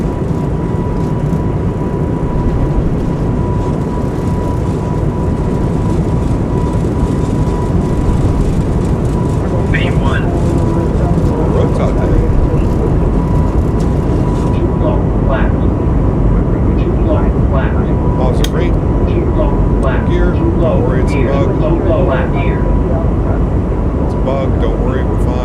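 Airbus A220 jet engines at takeoff power in a flight simulator, a loud, steady broadband roar that holds evenly throughout, with a faint tonal whine and scattered clicks layered on top.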